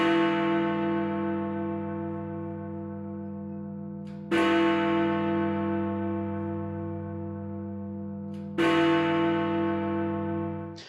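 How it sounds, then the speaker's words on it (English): Big Ben's great bell at Westminster, London, strikes three times at even intervals of about four seconds. Each deep, resonant toll rings out and hums slowly away before the next. "Let's watch Big Ben ring as an example."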